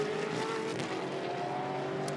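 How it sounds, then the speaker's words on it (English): A Supercars race car engine drones steadily on track during a championship race, heard from onboard as a sustained, fairly faint high whine with little change in pitch. "you get a sense of the car you're riding with and its behaviour based on the sounds in the background"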